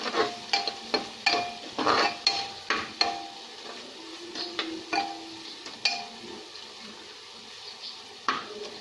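Spice masala of coriander and turmeric powder roasting in a pan, heard as a rhythmic series of close spatula scrapes and knocks over a low sizzle, the strokes thinning out later.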